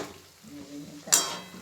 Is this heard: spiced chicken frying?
yes